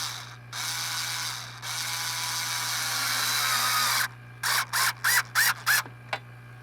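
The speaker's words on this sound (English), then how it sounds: "Go ahead and shut this pump down." Vacuum pump evacuating the air conditioning system during a compressor replacement on a 2015 Toyota Highlander: a steady close mechanical whine and hum, then several short sputtering bursts as it is shut down.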